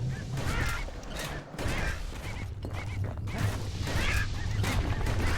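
Hostile birds in the video game Bastion honk and cry in repeated bursts over a constant low rumble, with brief crashing impacts amid the game's busy soundscape.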